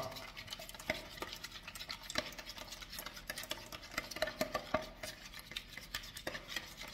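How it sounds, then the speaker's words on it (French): A spoon stirs and scrapes through cake batter in a bowl, soft irregular clinks and taps against the sides, close and faint with no talking. "comme je vais mélanger après le reste, je prends ma cuillère."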